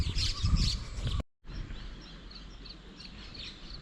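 Birds chirp and call in the open at the Anayirankal Dam in Munnar, several bright tweets scattered over a soft outdoor background, briefly cut to silence partway through.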